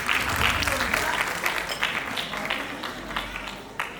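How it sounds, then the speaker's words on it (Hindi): An audience at an annual school function in Rishikesh breaks into sustained applause, with many hands clapping steadily at first and then gradually tapering off, a few sharp individual claps standing out near the end. "डीटी सर ने इसका सही आंसर दिया है, कृपया उनके लिए तालियां बजाइए"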